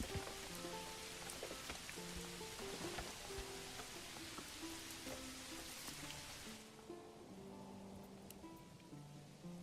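Rain falling in the medieval city-building game Manor Lords: a steady, dense patter of drops on surfaces with faint tonal game music underneath, no talking.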